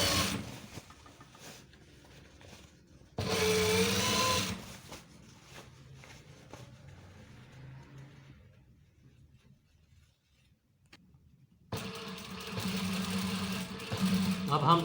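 A sewing machine stitches police uniform trousers in two loud, whirring bursts, the first short and the second longer near the end, with a person talking in the quieter stretch between them.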